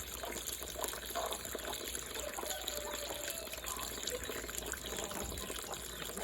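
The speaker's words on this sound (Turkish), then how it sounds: "Ben burada çamaşır yıkamak için su dolduruyorum." Tap water runs steadily into a container being filled for laundry washing at home, a continuous broadband gush that stays loud and even throughout with no talking.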